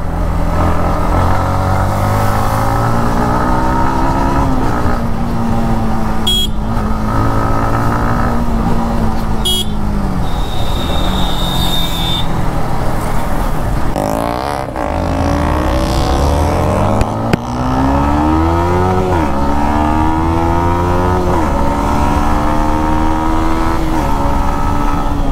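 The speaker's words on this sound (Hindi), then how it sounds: "एकदम स्मूथ चल रही है बाइक। साउंड की बात करें वो भी MT का है, वो काफ़ी अच्छा आ रहा है।" Engine of a 2022 Yamaha MT15 V2 motorcycle being ridden, a loud, steady buzzing drone whose pitch climbs and drops with acceleration and gear changes, with no talking.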